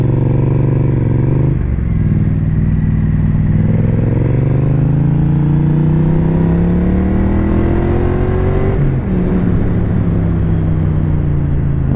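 A 2019 Triumph Street Twin A2 motorcycle accelerates, its engine drone climbing in pitch through a gear, then dropping at a shift before rising again, loud and continuous from the rider's position with no talk.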